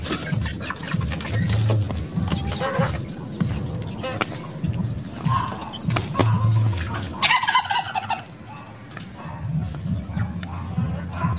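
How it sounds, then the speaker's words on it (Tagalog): A turkey, one with a congenital limp, gobbles in a farmyard after an overnight flood, with a few bursts of gobbling over a steady background of mixed noise and other fowl. "Meron tayong isang pabo dito na pilay."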